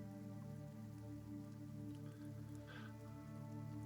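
Steady rain from the video game LACUNA falls on hard surfaces as a continuous, even patter under a low game drone, with no talk over it.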